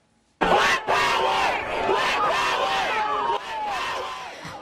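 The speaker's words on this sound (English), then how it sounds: "People cried, hugged and chanted in Minneapolis, where Mr Floyd was killed." A large crowd in Minneapolis cheers and chants loudly after the verdict in the Derek Chauvin trial for George Floyd's murder, with sustained shouting voices and whoops.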